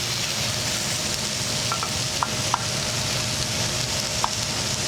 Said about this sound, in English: So as this butter is melting and I'm moving it, I'm emulsifying the fat of the butter with the wine